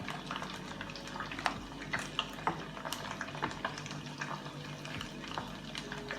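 Mango and pineapple habanero wing sauce is stirred in a pan, with a steady soft bubbling sizzle and irregular scraping clinks of the spoon, close and fairly quiet.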